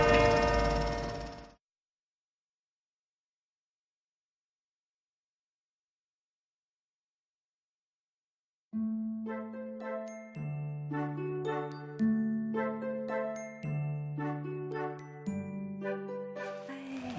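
Bells ring in overlapping, clanging peals that strike repeatedly and hang in the air, loud and close, following a burst of noise and a long silence.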